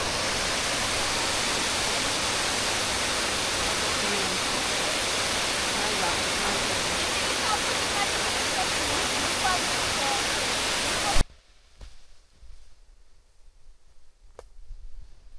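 A small mountain waterfall near the Roháče lakes in the Slovak mountains gives a loud, close, steady rushing roar for about eleven seconds, then cuts off abruptly to near quiet.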